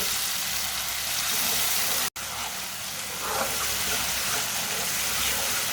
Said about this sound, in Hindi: टमाटर को भी 2 मिनट के लिए पका लेंगे।